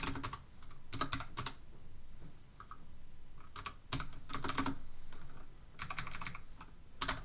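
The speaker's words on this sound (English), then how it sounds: "You gotta type it all in." Someone typing code on a computer keyboard, quick bursts of clattering keystrokes separated by short pauses, fairly quiet and close, with no speech.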